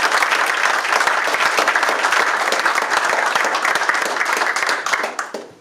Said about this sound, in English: please give a round of applause to the great state of West Virginia Governor